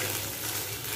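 Egg and onion fry in a pan with a soft, steady sizzle and crackle, fairly quiet and continuous with no talking.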